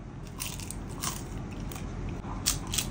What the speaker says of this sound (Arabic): اسمع بقى السيمفونيه بتاعت القرمشه